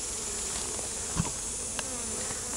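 Honey bees buzzing steadily around a top bar hive, a dense close hum with a few faint knocks, no talking.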